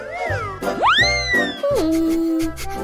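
A cat meows loudly and close up, giving several drawn-out meows that rise and fall in pitch, with nothing else heard between the calls.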